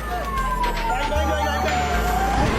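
An ambulance siren arrives at a hospital where police stand guard, its loud wailing tone sweeping slowly downward over a low vehicle rumble and traffic noise.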